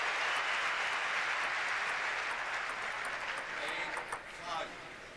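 Spectators applaud at a table tennis match at the 2006 ITTF Chile Open men's singles, Samsonov against Gardos; steady clapping rolls on and fades after about four seconds, with commentary talk over it.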